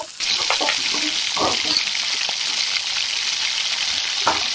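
Onions frying in oil in a pan for a hotel-style masala make a steady, close sizzle that holds evenly, with a few stirring scrapes and knocks breaking through.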